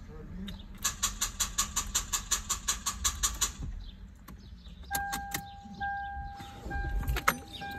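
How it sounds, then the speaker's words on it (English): Car starter clicking rapidly as the engine fails to crank, a quick regular series of close clicks over a few seconds, followed by chimes and faint handling sounds. "Just sounds like it's clicking, but nothing."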